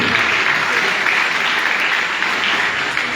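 Clapping from a church congregation during a priest's gathering, a dense, loud, sustained round of applause from many hands without any break.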